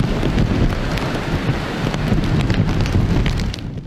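A typhoon lashes the exposed waterfront of Heng Fa Chuen on Hong Kong Island's east side with a steady, loud roar of wind and driving rain that buffets the microphone throughout.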